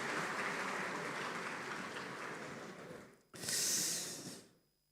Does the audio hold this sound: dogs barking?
no